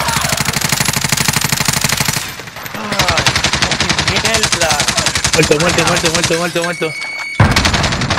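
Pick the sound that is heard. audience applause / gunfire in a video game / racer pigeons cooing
gunfire in a video game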